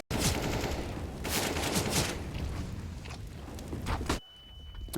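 SMGs, a pistol and a FAMAS firing in a Counter-Strike match on the Vertigo map: loud bursts of automatic fire mixed with single shots and footsteps, which stop abruptly near the end and leave a quiet tail.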